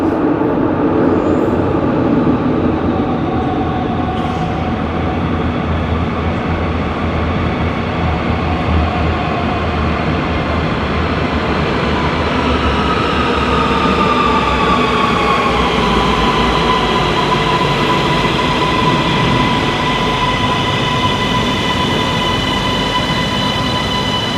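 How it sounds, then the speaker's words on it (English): A newer Sofia metro train on line 2 pulls into an underground station, a loud, steady rumble of wheels and motors with rising whine and faint squeal as it arrives close by, no talking. "But we can capture this train arriving"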